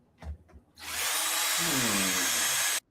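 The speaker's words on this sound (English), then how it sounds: "Hey, Drinker, that drill bit isn't nearly long enough." A handheld power drill with a drill bit gives a few short taps, then whirs steadily for about two seconds, loud and close, and stops abruptly.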